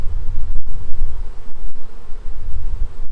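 Honey bees buzz around an open beehive during frame replacement in a weak hive, a steady close hum filling the clip with a few brief knocks.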